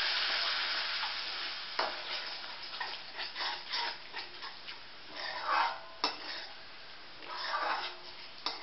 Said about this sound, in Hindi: दही डाल के भी थोड़ी देर भून लेंगे